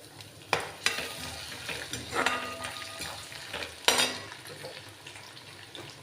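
Finely chopped garlic hits hot oil with curry leaves for kanda batata poha, sizzling under several sharp stirring scrapes and knocks of a spoon against the pan, fairly close.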